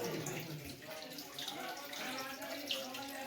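Water flows steadily from a natural Shiva lingam shrine at Rishiyan Ashram, Chitrakoot, a soft continuous trickle and wash heard from close by at low level, without a break.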